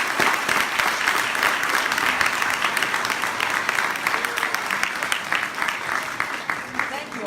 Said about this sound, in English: So let's give these candidates another big round of applause.